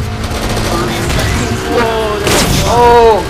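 Rapid gunfire in Deep Rock Galactic, a loud continuous barrage of shots and booms from dwarven weapons with people talking over the shooting.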